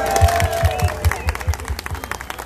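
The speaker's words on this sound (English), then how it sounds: "Give yourselves a round of applause." A Greek dancing lesson class at an outdoor festival claps together in a quick, fairly even rhythm of about a dozen sharp claps, close and lively, with some crowd murmur mixed in.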